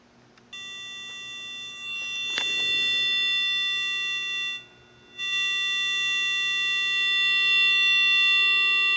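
Square wave tones from a PIC16F887 music player and frequency tuner, a steady harsh buzzy pitch that holds for several seconds, drops out briefly, then resumes, loud and close with a click near the start.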